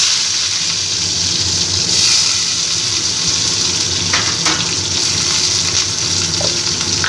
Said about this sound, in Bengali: আলুগুলোও আমি এইভাবে একটু ভেজে নিলাম